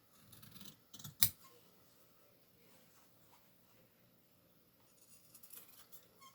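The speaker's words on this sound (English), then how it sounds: "I'm going to snip these long pieces off" Scissors snipping long loose fabric pieces off a scrappy fabric applique, with one sharp, close snip near the start amid faint handling rustles in an otherwise quiet room.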